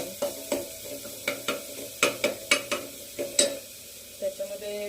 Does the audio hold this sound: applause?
no